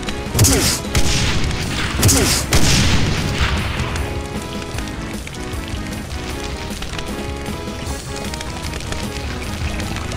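Rocket launcher explosions in the video game DOOM: two loud, booming blasts close together in the first few seconds, followed by a rumbling, crackling tail and dense game noise that carries on to the end.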